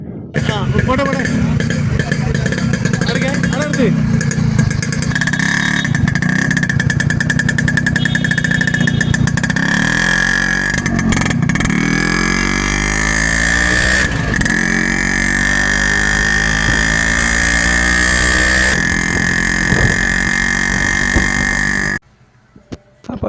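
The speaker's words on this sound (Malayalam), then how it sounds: "നിങ്ങൾ ഒന്ന് ഈ വണ്ടിയുടെ സൗണ്ട് കാര്യങ്ങളൊന്ന് ചെക്ക് ചെയ്ത് നോക്കിയാൽ" A Yamaha RX 100 two-stroke motorcycle, not yet correctly tuned, runs steadily and loudly up close. Its engine drones and buzzes continuously with slight rev changes for about twenty-two seconds, then cuts off abruptly.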